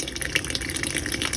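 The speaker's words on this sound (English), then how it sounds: "here is the water that appears to be kind of turned back on, but that's all the water pressure we're getting." Faucets in a mobile home trickling water at low pressure, a thin, steady splashing hiss with no pauses, fairly faint and close.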